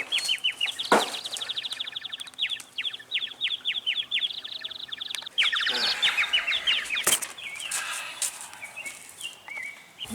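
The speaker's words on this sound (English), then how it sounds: "We were just sitting there, and some bird came in." A bird that has flown into a home chirps in rapid, close bursts, with wing flapping and thumps mixed in as it moves around the room.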